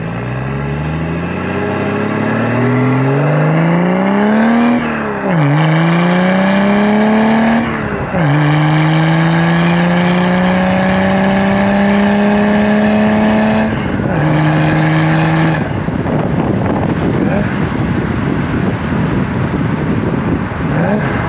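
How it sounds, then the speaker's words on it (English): A BMW E60 diesel engine runs loud and close, revving up and easing off in several rising and falling sweeps, then settling into a rougher idle-like rumble near the end. "you can hear the big old diesel. It sounds real cool."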